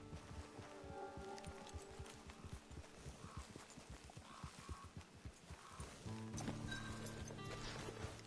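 In a PS4 video game, a horse's hooves clip-clop in a steady walking rhythm at close range, joined near the end by a low swelling tone, with no talking.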